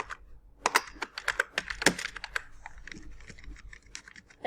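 Close typing on a computer keyboard while entering a C printf command, with a rapid burst of key clicks that slows into scattered, lighter taps.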